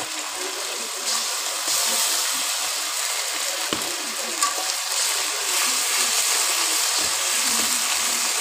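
Onion and garlic paste fries in a pan with a bright, steady sizzle, loud and close, plus a few small clicks and stirring noises for several seconds, without speech.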